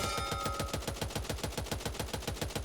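Rapid sustained bursts of RPK machine gun fire in the zombie shooter Back 4 Blood, a fast, even rattle of shots close and loud with no talking over it.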